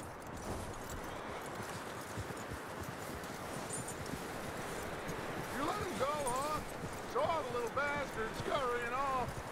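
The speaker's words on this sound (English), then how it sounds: "that looks like a decent horse. You should keep him." Horse hooves clop steadily over ground in Red Dead Redemption 2, with rustling and wind in the background and a soft whinny-like call near the end. Someone speaks calmly over the hoofbeats.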